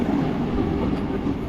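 Orange Vande Bharat Express, Kasaragod–Thiruvananthapuram, passing through Kozhikode railway station: a loud, close, continuous low rumble and roar of carriages rolling by, steady throughout.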